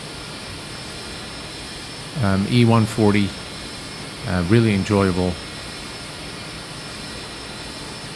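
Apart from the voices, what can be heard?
ERJ E145 right jet engine starting up in X-Plane 11 video game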